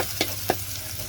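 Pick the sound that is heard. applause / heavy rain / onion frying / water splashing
onion frying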